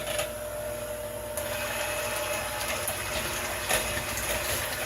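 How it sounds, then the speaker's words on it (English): A small hand mixer whips cream into butter, running at a steady, even, high-pitched whir with a rough churning undertone close by, holding constant with no talk. "we're going to take the little mixer"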